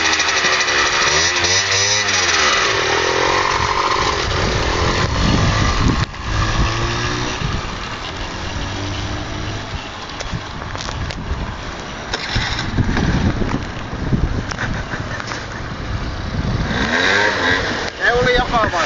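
A Keeway motorcycle engine revs hard under full throttle, rising and falling in loud rasping sweeps through gear changes, close and sustained, with people talking over it.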